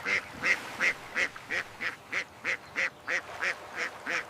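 A steady run of about a dozen evenly spaced quacks, bright and close, one after another with no pauses, like a duck calling repeatedly.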